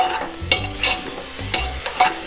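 Tomato, garlic and masala fry for a fish curry, sizzling in a pan while a spoon stirs with a few scraping strokes, close and moderately loud, without speech.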